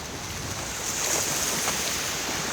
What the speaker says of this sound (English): How loud are those waves, guys? Check them out. They're literally right here beside us.